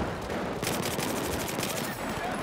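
Sustained rapid automatic fire from an MPX in Battlefield 4, loud and continuous, with a denser burst partway through.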